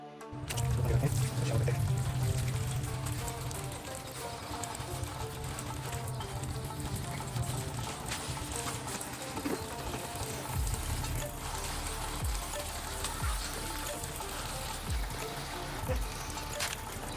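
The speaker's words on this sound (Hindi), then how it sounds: "तो चलो इसके अंदर पानी डाल देते हैं।" Water poured from a vessel into clay pots filled with settled soil for growing cabbage, a steady splashing trickle running nearly continuously at close range with no talk over it.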